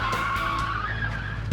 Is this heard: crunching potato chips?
no